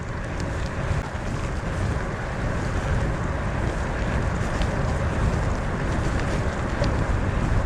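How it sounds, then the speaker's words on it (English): Strong, steady wind roars continuously past a rider on a Lapierre E Crosshill 5.2 e-gravel bike, a loud, unbroken buffeting rush close to the microphone with no voice over it. "I've got the wind just coming around a big bend."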